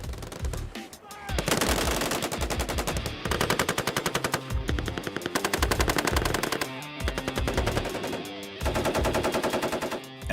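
Machine guns fire in long, continuous rapid bursts during Marine live-fire training, loud and close, with dense rattling shots running almost without pause and only brief gaps as the fire passes between guns.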